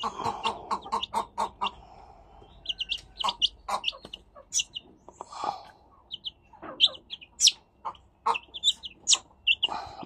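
Native hens cluck and chatter close by, a dense run of short repeated calls with a few sharper squawks mixed in, continuous across the whole stretch with no talking.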